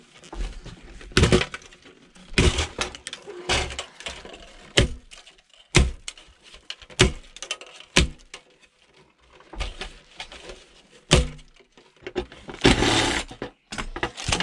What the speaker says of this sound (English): but that's okay because we've got a hammer.